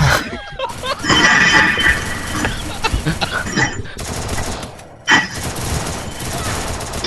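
Rapid automatic gunfire rattles through a shooting video game match, landing a powerful headshot; dense bursts fire for several seconds, drop out briefly near the end, then resume.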